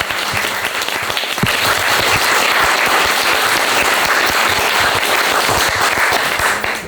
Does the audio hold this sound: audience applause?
yes